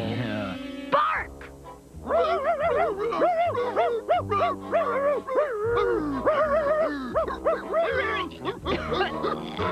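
A cartoon character's voice imitates a dog, letting out a run of yipping barks and whimpering howls, loud and close, in an almost continuous string over several seconds.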